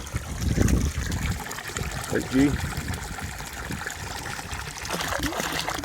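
Clean spring-fed water trickles steadily into a cattle trough on a hillside pasture, a soft continuous dribble close by, with a brief spoken remark and occasional thumps over it.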